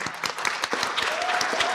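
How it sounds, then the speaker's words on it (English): Audience at a town hall meeting in Utah applauds, a dense burst of clapping with a few sharper individual claps standing out, sustained and fairly close for nearly two seconds. "give the DA a round of applause."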